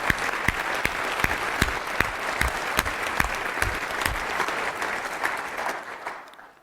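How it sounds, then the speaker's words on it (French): Audience applause at a French-language talk on pursuing excellence, a steady dense wash of clapping with a few sharper individual claps standing out, holding for about six seconds before fading at the end. "applaudissements pour ça"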